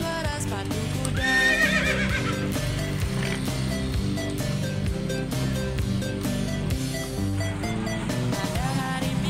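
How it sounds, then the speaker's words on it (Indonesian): A horse pulling a delman cart whinnies and its hooves clip-clop, heard over a bouncy children's song with steady music throughout. "Tuk tik tak tik tuk tik tak tik tuk tik tak tik tuk, tuk tik tak tik tuk tik bersuara sepatu kuda."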